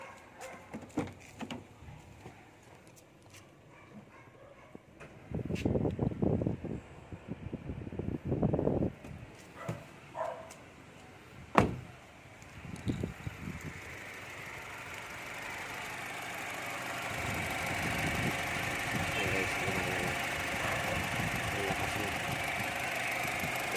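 A repaired radiator fan motor on a Honda Brio starts up after several clanks and a sharp knock of workshop handling, then settles into a steady, loud, close whirring hum for the last several seconds.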